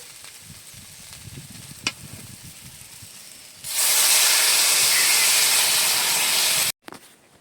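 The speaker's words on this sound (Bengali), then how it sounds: "এবারে দিয়ে দেবো এপাশের গরম জলটা" Hot water hits a sizzling jackfruit seed curry: after a quiet stretch of low kitchen noise, a sudden loud steamy hiss erupts and holds steady for about three seconds, then cuts off abruptly.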